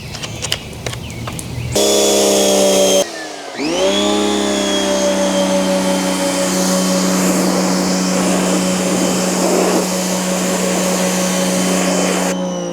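Wall-mounted 2200 PSI pressure washer spraying through a white nozzle, a loud steady motor whine and hiss starting after a brief pause and running unbroken to the end, with no talk.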